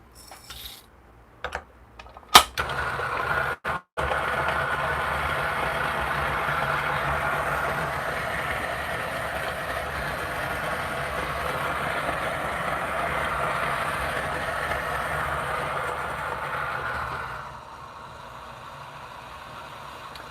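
After a few clacks and knocks, a Niche coffee grinder whirs steadily for about thirteen seconds, grinding coffee beans for espresso. Then the sound drops to a quieter hum.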